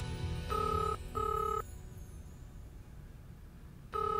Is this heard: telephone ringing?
yes